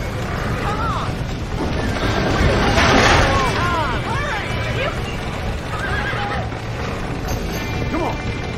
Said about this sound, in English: Back that damn horse!